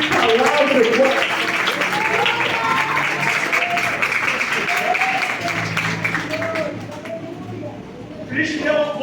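A church congregation applauds Jesus with continuous, thick clapping that carries on for several seconds before thinning out, while a voice talks over the applause.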